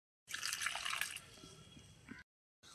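Hot water poured into seasoned flour for dough gives a short, close splashing pour of about two seconds, then a brief pause and a faint restart.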